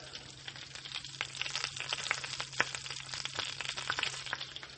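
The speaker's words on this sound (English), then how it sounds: "the butter is bubbling away" Butter bubbling and crackling in a hot pan, a steady dense fizz with small pops scattered throughout, close up and with no talking.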